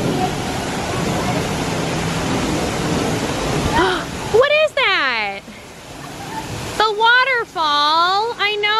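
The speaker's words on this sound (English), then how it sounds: "So whenever we're in Canada, Caspian is always dying to see the waterfall." Waterfall at the Canada pavilion of Epcot, a loud steady rush of falling water that drops away partway through as high child-like voices and talk take over.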